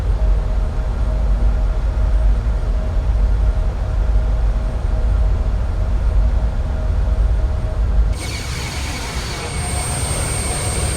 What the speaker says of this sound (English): we got our APU spooling up, and it looks like it's already good to go